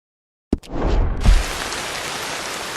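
Rain falls in a video game, starting suddenly with a thump and then settling into a steady, dense hiss of downpour that holds close and even, with no voices.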